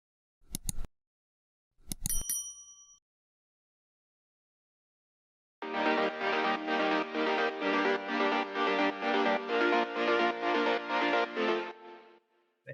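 Two brief sharp clicks, then a processed saw synth chord layer in FL Studio enters and pulses in a steady, even rhythm of sustained bright chords for several seconds before cutting off.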